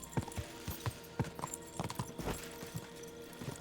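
Horse hooves clip-clop at a steady walking rhythm in the medieval game Kingdom Come: Deliverance 2, the repeated thuds moderately close and fairly quiet, with no talk over them.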